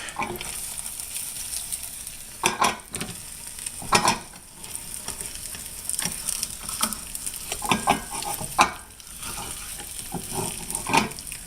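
Andouille sausage and eggs fry in a pan, a continuous close sizzle with occasional louder scrapes and clatters of a utensil, no voices.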